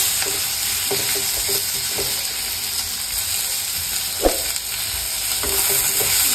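Tomatoes stirred into chicken chops frying in a pan, a continuous close sizzle with soft scraping stirs and one sharp clank of the utensil against the pan, no speech.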